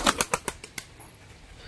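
Pigeons flap their wings on a tin roof, a quick run of sharp, close flutter bursts in the first moments that fade into quieter rustling.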